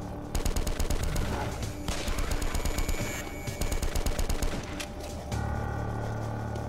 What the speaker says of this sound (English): I'm gonna have to use that Tommy gun, I think.